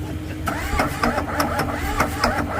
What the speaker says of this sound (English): you keep cranking it a bit because it'll clean up